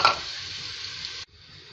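Onions sizzle in about a cup of hot oil for an Indian chicken wings biryani, a steady bright frying hiss close up that cuts off abruptly near the end, leaving a faint quieter sizzle.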